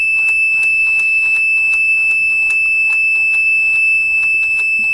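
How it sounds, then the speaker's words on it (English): A Dillon XL ammunition reloading press sounds a continuous electronic alarm: rapid, evenly repeated high beeps over a steady shrill tone, loud and close, with no talking. "the annoying alarm sound goes away"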